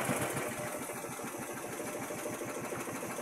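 A hired boat's motor chugs steadily and close on the way to an island, a rapid mechanical putter with a constant hiss of wind and water, no voices.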